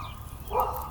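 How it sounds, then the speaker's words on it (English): A dog gives one short bark at a neighbouring dog, faint and somewhat distant, against a quiet outdoor background. "That's my dog barking at the neighbor's dog that just came out."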